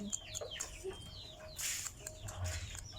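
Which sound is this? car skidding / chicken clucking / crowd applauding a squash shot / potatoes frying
chicken clucking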